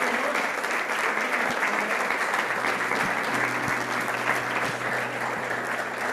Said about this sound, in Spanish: Le damos un lindo aplauso a nuestro Señor.